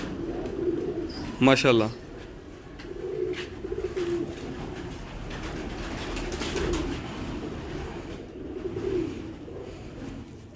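Breeder pigeons of the Dakoo breed in a loft in Kasur, soft low cooing murmurs rising and falling under a man's speech, with a brief burst of louder chirping near the start.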